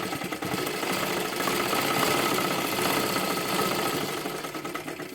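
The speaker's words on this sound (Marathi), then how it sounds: "इकडच्या बाजूला परत एकदा आपल्याला शिलाई घ्यायची आहे" A sewing machine runs steadily, stitching fabric for a blouse patti with a continuous rapid mechanical whirr and clatter, close and moderately loud, without pause.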